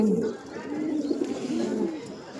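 Pigeons coo nearby in low, rolling, repeated calls, one warbling phrase following another, with a faint background murmur.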